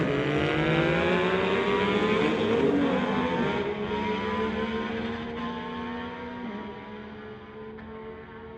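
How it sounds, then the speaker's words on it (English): Motorcycles at a drag strip, a 2022 Ducati against a 2019 Yamaha, roar loudly through rising gear changes and then fade as they pull away down the track. "We have Paul Antunes from Burnaby in the 22 Ducati going against Nathan Kemp in the 2019 Yamaha."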